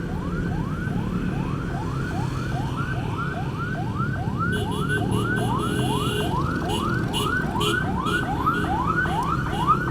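An ambulance siren wailing on the road behind traffic between Jakarta and Puncak via Bogor: a loud, rapidly repeating rising sweep that keeps cycling without pause over road rumble, with other siren tones joining later.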